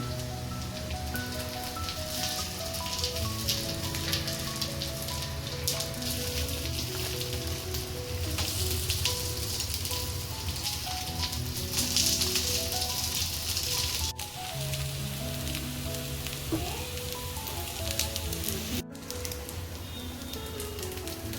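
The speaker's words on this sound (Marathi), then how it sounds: "एकदम स्लो गॅसवरती मी हे तळून घेते." Poha cutlets fry in a pan over a low gas flame, a soft continuous sizzle and crackle running beneath steady background music.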